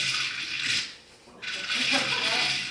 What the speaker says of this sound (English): And this is how you shuffle the tiles.